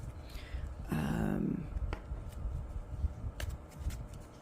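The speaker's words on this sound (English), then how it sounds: "Let's do a little shuffling wuffle." Tarot cards are riffled in a quick shuffle, a short crisp flutter over a faint background hum.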